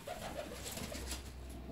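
Fancy ornamental pigeons coo in soft, repeated rolling calls, steady and fairly close, with no talk over them.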